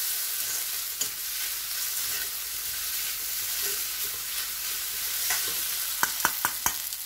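Garlic chili noodles stirred and frying in a hot pan, a steady close sizzle with scraping utensil sounds and a few sharp clicks near the end, no talk.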